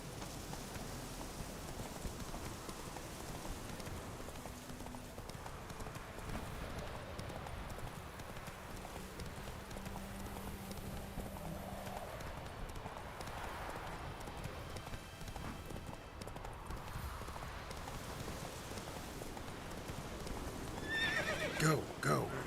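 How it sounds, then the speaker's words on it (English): Horse hooves clip-clop at a gallop with occasional neighs in The Witcher 3 while someone talks over the game sounds, with rain-like patter underneath. "अबे हॉर्स कहाँ पे मर गया?"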